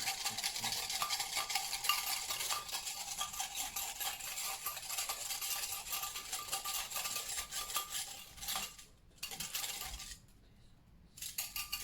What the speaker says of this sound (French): Donc je vais bien mélanger avec mon fouet.